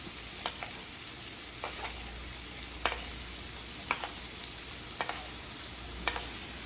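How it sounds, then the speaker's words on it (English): A steak sizzles steadily in a hot pan while it is basted, with a soft continuous frying hiss broken by a few sharp spoon scrapes and spatters, close and fairly quiet. "I'm just gonna once again baste my steak."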